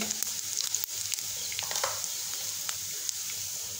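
Garlic and cumin seeds sizzle steadily in hot oil in a home kitchen pan, a constant close crackle with small pops and the occasional scrape of a spoon, no voices.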